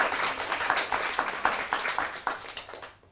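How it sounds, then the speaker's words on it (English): An audience applauds for SDA Academy at the 2014 BOSL Mad About Math Championship, a steady wash of many hands clapping that fades out toward the end. "So round of applause for SDA Academy."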